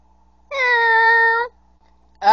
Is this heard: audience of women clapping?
no